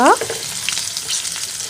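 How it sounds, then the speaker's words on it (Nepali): Onions frying in a pan with mutton leg pieces, a close steady sizzle with light stirring clatter after a brief tonal sound at the start. "प्याजलाई चाहिँ हामीले गोल्डन ब्राउन नहुन्जेल नै फ्राई गर्नुपर्ने हुन्छ।"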